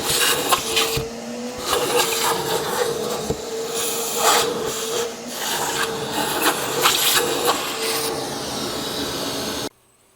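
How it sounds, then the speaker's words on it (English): A small vacuum cleaner runs close up, sucking dirt from the intake ports on the heads of a Chevy 3.6 LFX V6 with the intake manifold removed. It gives a continuous loud hiss with scraping, rattling bursts as the nozzle moves, then cuts off abruptly. "Vacuum some more."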